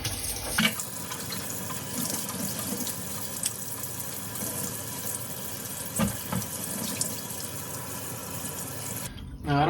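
Tap water runs steadily into a sink as Minimoog key parts are rinsed, a continuous hissing splash with a few brief clunks, stopping abruptly just before the end.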